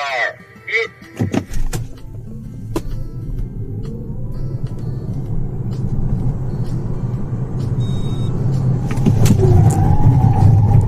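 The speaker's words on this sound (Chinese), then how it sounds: "第一个体验项目便来到了百公里加速" A Feifan Rising F7 two-wheel-drive electric car launches hard from a standstill to 100 km/h on a test track, its steady motor and road roar building loudly after a few short voiced sounds at the start.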